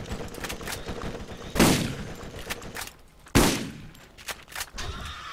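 Gunfire in the Borderlands video game comes as scattered, fast bursts of shots, with two sharp, loud blasts standing out over the busy background of game sound.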